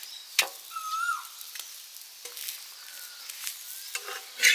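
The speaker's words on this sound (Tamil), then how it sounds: "கீரையெல்லாம் நல்லா வதக்கி அதுக்கப்புறம் போட்டு ரொட்டி சுடணும்" Greens being sautéed in a pan for a ragi roti in a village kitchen, with soft sizzling and scattered stirring scrapes and clicks, fairly quiet and close, with no talk.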